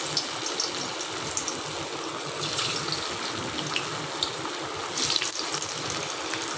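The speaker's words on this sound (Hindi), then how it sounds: "इनको हम स्लो फ्लेम पे फ्राई करेंगे।" Arbi leaf pakoras frying on a slow flame in hot mustard oil, giving a steady, close hiss and crackle that stays even throughout with small bubbling flare-ups, no voices.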